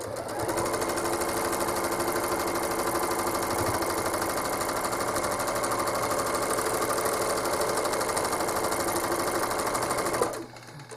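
A home sewing machine stitches quilting swirls in one continuous fast, even run of rapid needle chatter and motor whir, stopping abruptly near the end.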